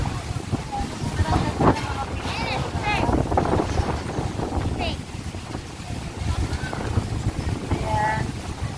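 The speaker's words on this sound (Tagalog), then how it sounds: "Sobrang hangin." Strong wind buffeting the microphone in gusts, with faint voices and outdoor activity in the background.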